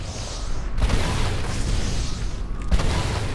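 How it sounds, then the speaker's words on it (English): Two explosions go off in Ori and the Blind Forest, broad booming bursts with a rumbling tail, the second arriving about two seconds after the first amid continuous game noise. "Two explosions and it's dead instantly."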